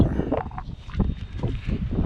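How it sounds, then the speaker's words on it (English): Strong wind buffets a handheld microphone outdoors in low rumbling gusts that swell and ease over a couple of seconds, with no voice heard. "it's super windy today"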